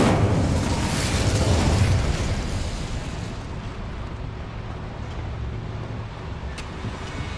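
Incendio fire spell cast in Hogwarts Legacy, a loud burst of roaring flame that blasts out, then fades into a softer crackling rumble over several seconds.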